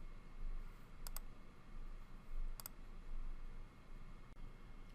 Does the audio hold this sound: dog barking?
no